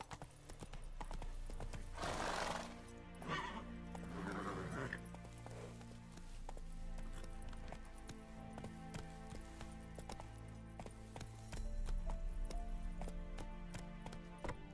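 Roach, the horse in The Witcher 3 game, gallops with rhythmic clip-clop hoofbeats and gives a loud whinny early on, then the hooves keep pounding on alone.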